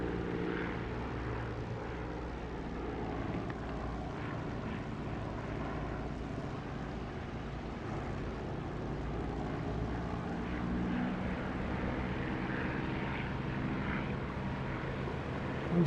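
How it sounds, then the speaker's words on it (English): A steady propeller aircraft engine in a flight simulator game drones continuously, loud and close, with a slight rise in intensity toward the end during landing. "as I land, have a listen for that increased engine volume"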